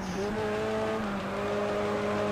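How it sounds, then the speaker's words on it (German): A damaged race car engine in a video game drones with a strained, uneven tone, steady and close throughout the short stretch. "mein Auto klingt nicht mehr gut, mein Motor ist schwarz"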